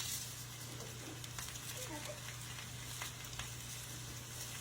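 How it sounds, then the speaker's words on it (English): Cabbage and kielbasa sautéing in a pan give a steady, soft sizzle that continues throughout, with a faint low hum and occasional light crackles underneath. "we'll let this saute up until the cabbage gets nice and tender"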